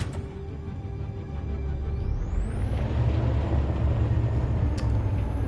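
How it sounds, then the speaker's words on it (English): A massive truck driven in Detroit: Become Human, a low rumbling engine drone that builds and holds steady, with faint high electronic tones sweeping above it. "I'm just driving this massive truck."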